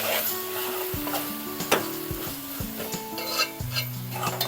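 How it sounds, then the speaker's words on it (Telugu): Chili powder and spice powders are stirred into an onion-tomato curry frying in a pan, with a continuous sizzle under frequent scraping strokes and light metallic rings of the utensil against the pan. "ఒక టూ స్పూన్స్ కారం వేస్తున్నానండి అన్నీ మంచిగా కలుపుకుందాం"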